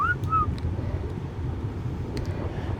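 A brief rising two-note whistle in Ark Survival Ascended, used to command tamed creatures, heard at the start over a steady low underwater rumble.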